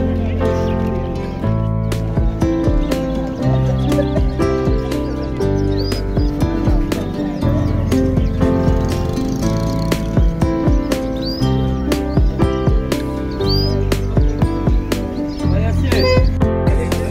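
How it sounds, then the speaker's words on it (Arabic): Birds call and chirp at a busy outdoor bird market in Agadir, with repeated short tweets and whistles over dense, steady background noise and crowd murmur throughout. "حنا اليوم راه تفوجنا السوق ديال الطيور"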